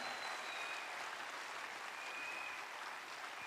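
An audience at a marketing seminar talk gives hearty applause, a continuous even roar of clapping, faint and distant, with no voices over it.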